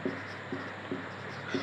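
A pen writing a math solution by hand on paper, with short scratchy strokes repeating in an even rhythm, quiet and close against a low steady background hum.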